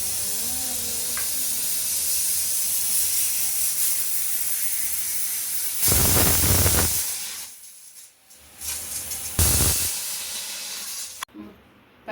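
A pressure cooker full of dal for an Onam sadya parippu curry hisses with steady steam, then lets out two loud, sharp bursts of venting steam separated by brief quiet gaps.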